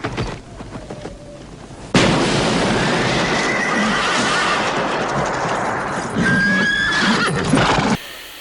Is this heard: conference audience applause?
no